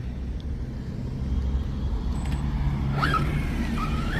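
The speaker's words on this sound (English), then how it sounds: "Let this van go through really quick." A van drives past on a road, a steady low rumble that swells slightly as it goes by, with a thin high whine rising briefly near the end.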